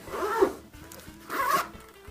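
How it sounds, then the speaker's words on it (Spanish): Two quick zips close a headphone carrying case, each a raspy rising burst of zipper teeth, the pair close and separated by a brief pause with faint handling noise between them. "Ambas se cierran por cremallera."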